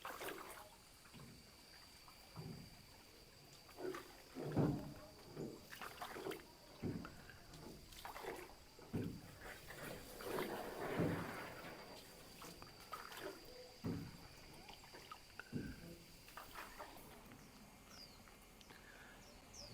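A rowboat is steered along the river at Tam Coc, soft irregular splashes and paddle strokes dipping into the water at close range, quiet and unhurried, with faint background bird and ambient noise.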